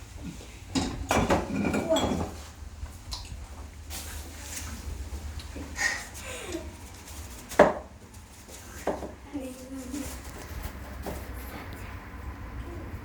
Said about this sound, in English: You're gonna cut some more cabbage.